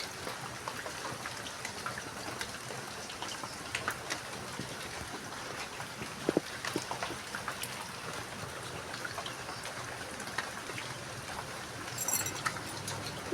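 Morning rain falls steadily outdoors, a soft continuous patter with occasional nearby drips and trickles, fairly faint and with no one talking.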